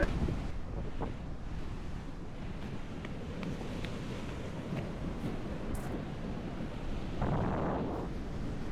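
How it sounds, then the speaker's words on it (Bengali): Waves wash continuously onto an empty sandy beach in Sri Lanka, a steady close surf roar mixed with wind, swelling slightly near the end, with no voices. "ও মাই গড, পুরা ফাঁকা একটা বিচ, কি সুন্দর।"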